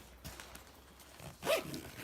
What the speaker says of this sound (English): Trying out all the zippers just to make sure.